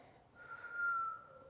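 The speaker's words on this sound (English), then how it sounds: "Why am I whistling?" A person whistles one soft, breathy note that swells and then fades, with no other sound around it.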